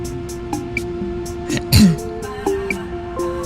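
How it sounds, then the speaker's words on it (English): A single short throat clearing breaks out near the middle, close and fairly loud, set over quiet game ambience with faint tones. "Just clearing my throat."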